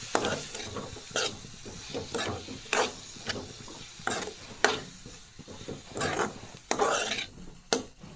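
A spoon scrapes and stirs through a thick legume curry in a clay pot, with repeated rasping strokes in an uneven rhythm and faint sizzling underneath.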